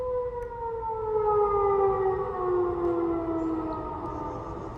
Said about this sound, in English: You can hear those sirens.